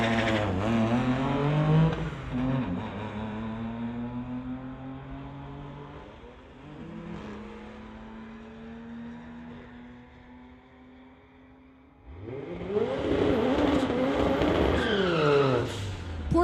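A 1975 Porsche and a 2012 Audi S4 drag race on a strip, engines roaring loud and close through hard acceleration and gear changes, fading briefly mid-run before a second car surges in with loud revving.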